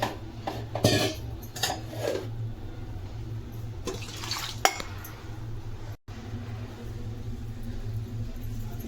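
Chopped carrots, radish, beans and potatoes tumble into a cooking pot for temple-style sambar, with a few clattering thuds and splashes early on, then a quieter stretch of low kitchen hum.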